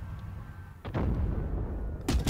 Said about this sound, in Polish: Ale to był ładny strzał w tym momencie.